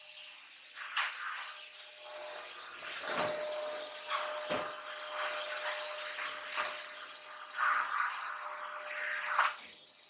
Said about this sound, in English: We're gonna pick up some noise with this vacuum.